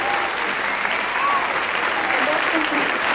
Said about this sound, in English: All the competitors stand to applaud Sandra Kim